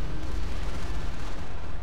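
Artillery booms in a Company of Heroes battle, a loud, continuous low rumble of heavy gunfire and blasts that fills the whole moment without a break, with no voices over it.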